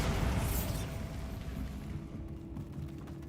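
The Bombarda blasting spell in Hogwarts Legacy goes off as a heavy booming explosion, its loud rumbling roar fading slowly over a few seconds.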